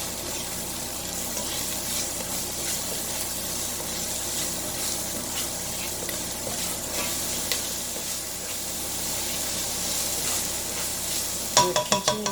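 Chunky marinara sauce with garlic and onion, seasoned with a pinch of salt, bubbles and sizzles steadily in a pan, a dense continuous crackle close by, ending in a few quick clatters.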